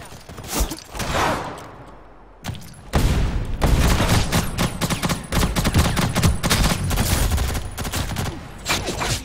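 Heavy gunfire in a video game battle: dense, loud bursts of rapid shots and booming blasts, nearly continuous after a brief lull, close and overwhelming.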